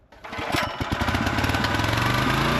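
A small engine starts abruptly and runs rough and loud, a buzzing, uneven lawnmower-like drone with sputtering pulses, labouring as if on the verge of stalling.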